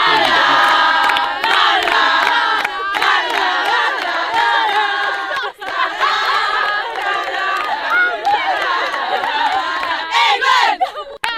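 Large crowd of England football supporters cheering and chanting loudly and continuously during a 2018 World Cup matchday, dense voices filling the whole stretch with rising shouts.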